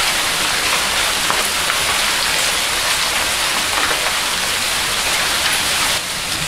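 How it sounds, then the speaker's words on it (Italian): Stones rain down in Taormina during an Etna eruption, a loud, steady, dense patter and hiss of countless small impacts that continues unbroken without any talking. "Pioggia di pietra, si sta praticamente seppellendo vivo."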